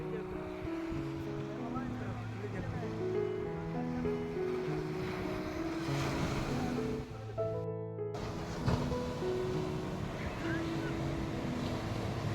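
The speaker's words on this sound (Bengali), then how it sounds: "একটা ঢেউ তুলি।" Sea waves break on Puri beach in a steady rushing surf under almost constant chatter from a family nearby, with a brief dropout partway through.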